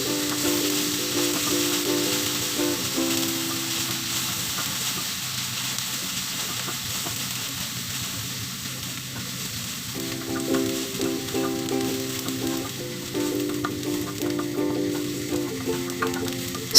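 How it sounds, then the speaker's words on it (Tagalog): Onions sautéing in a pan until browned, with a steady broad sizzle running throughout and occasional stirring scrapes; a faint tonal hum comes and goes in the background. "So igigisa lang natin siya hanggang mag-brown siya."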